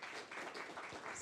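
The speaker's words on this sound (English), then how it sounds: "Maybe you should give him a big applause again" Applause from a seminar audience after a question session on ethics and health impacts of climate change, steady broadband clapping over 1.2 seconds, moderately faint and continuous with no speech.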